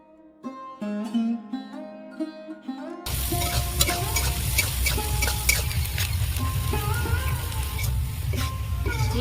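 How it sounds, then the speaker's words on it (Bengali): Chopped onions with sugar frying in a pan, starting with a few tones and clinks before a loud, dense sizzle takes over and holds steady, with occasional clinks of a stirring utensil close by. "পেঁয়াজ আমি বেরেস্তার মতো করে ভেজে নিয়েছি লাল লাল করে"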